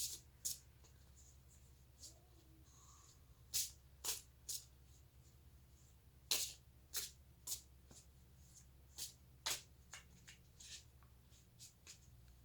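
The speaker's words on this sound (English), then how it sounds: "So I'm just going to shuffle a little bit" Tarot cards are shuffled in a quiet room, with short crisp riffling bursts repeating at irregular intervals and soft shuffling between them.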